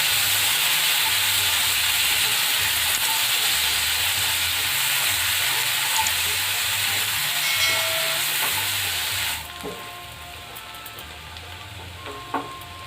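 Finely chopped large onion sizzles loudly in a hot pan for palak paneer, a broad steady frying hiss that drops sharply toward the end, followed by quieter crackling and a few stirring scrapes.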